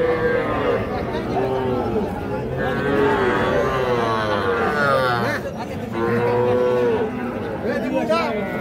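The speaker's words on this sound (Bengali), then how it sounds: "ষাঁড় বাচ্চা।" Bull calf mooing at a village cattle market, the Ambari haat, with several drawn-out, wavering low calls rising over busy crowd chatter and people talking close by.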